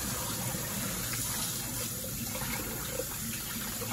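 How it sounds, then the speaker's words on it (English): Tap water runs steadily over raw chicken being rinsed in a home kitchen, a constant close hiss and splash of flowing water with no voices. "I rinsed my chicken off."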